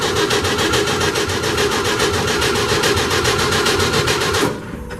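A 1965 Chevy truck engine with no muffler cranks on a cold start, a loud rapid rhythmic chugging that cuts off abruptly near the end.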